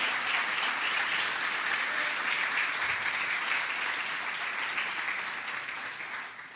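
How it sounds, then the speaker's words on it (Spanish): A church congregation claps steadily as an offering of praise, a broad, even wash of applause that holds its level and eases slightly toward the end. "Le vamos a regalar una ofrenda de palmas al Señor de la gloria."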